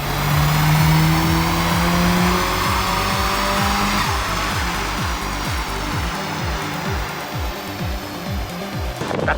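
A Subaru WRX STI on a dyno run, its engine revving hard with rising pitch that climbs, then holds in a rapid pulsing drone before easing off near the end; loud and close, no talking.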